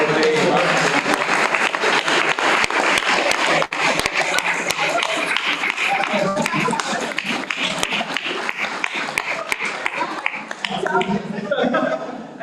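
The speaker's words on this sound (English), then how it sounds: "I would like to have a special applause for our regisseur and director of photography" Sustained applause from a gathered group for their director of photography, dense, steady clapping throughout that fades slightly toward the end.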